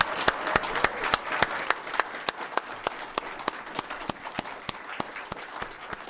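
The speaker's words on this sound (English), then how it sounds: "a round of applause," An audience at a school board meeting claps for two long-serving board members, a steady run of sharp, fairly close claps that carries on evenly throughout.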